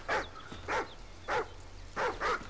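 Riley the dog in Call of Duty: Ghosts gives five short, breathy whimpering yelps in an uneven rhythm, close and distinct over quiet background hum.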